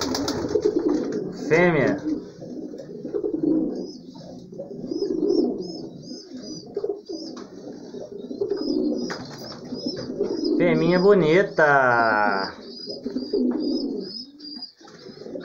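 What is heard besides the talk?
pigeons cooing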